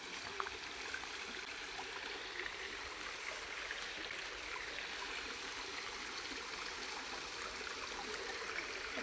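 A river flows in a steady, broadband rush of water, continuous and fairly faint, with no voices over it.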